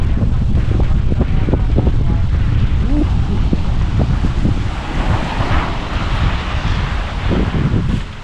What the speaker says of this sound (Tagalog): Isang hangin, sarap maliwalas.